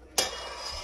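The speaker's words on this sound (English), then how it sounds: "Let's give it a stir." A spoon stirring ham salad in a bowl, giving one sharp clink followed by a short, soft scraping swirl, close and quiet.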